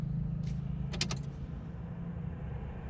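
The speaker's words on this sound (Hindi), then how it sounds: "पहले एक बार घुमाओ चाबी को आगे को," Car keys jangle with a few quick metallic clinks as a key is turned in the ignition of a parked car in neutral, over a low steady hum.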